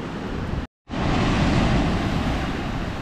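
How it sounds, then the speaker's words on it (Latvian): Big sea waves break on a white-rock beach in Cyprus, making a continuous close roar of surf mixed with wind buffeting, interrupted by one brief cut of silence. "Atnāca lielie viļņi."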